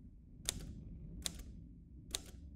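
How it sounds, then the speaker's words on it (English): A typewriter sounds three sharp, isolated key strikes spaced well apart over a quiet, low background rumble, with no voices. "no one can hack a typewriter anyway"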